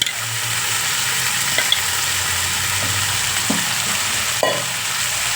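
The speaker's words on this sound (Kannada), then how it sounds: "ಈಗ ತರಕಾರಿ ಎಲ್ಲನೂ ನಾವು ಸ್ವಲ್ಪ ಒಗ್ಗರಣೆಯಲ್ಲಿ ಬೇಯಿಸ್ತಾನೆ" Potato, brinjal and flat beans fry in oil tempering for a mixed greens and vegetable upma, giving a steady close sizzle with a few clinks and stirring scrapes and no talk.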